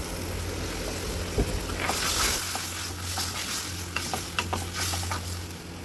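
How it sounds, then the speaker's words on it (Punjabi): Water is added to sizzling spices in a pan for a parwal and potato gravy, with a loud, close crackle and bubbling and a few sharper spattering bursts partway through. "ਥੋੜਾ ਪਾਣੀ ਪਾ ਕੇ ਨਾ ਪਹਿਲਾਂ ਆਪਾਂ ਇਹਦੀ ਗ੍ਰੇਵੀ ਤਿਆਰ ਕਰ ਲਵਾਂਗੇ"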